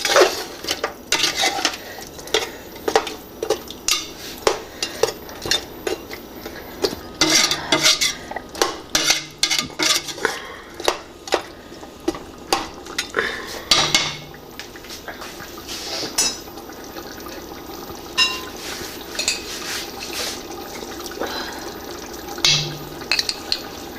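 A spoon scrapes and clatters against a pot while meat curry with onions is stirred, repeated metallic knocks and scraping in an irregular rhythm, close and moderately loud, with faint sizzling underneath.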